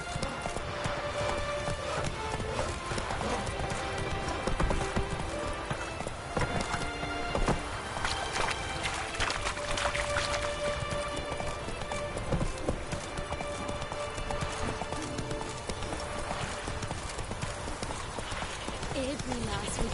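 Horse hooves clip-clop at a gallop in The Witcher 3 video game, a steady rhythmic beat running throughout under game music and ambient effects, with voices speaking over it.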